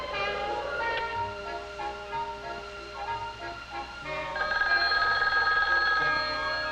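A telephone rings on a long-distance call direct-dialed to Chicago, giving repeated ringing bursts with a bright bell-like tone that stays clear and steady against a faint background hum.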